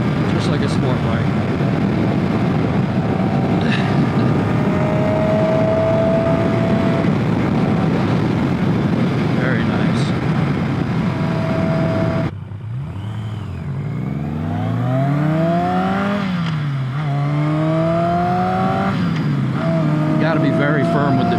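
A motorcycle is ridden through rushing wind noise, then its engine climbs and drops in rising sweeps as gears are shifted firmly, with a rider's voice over the engine.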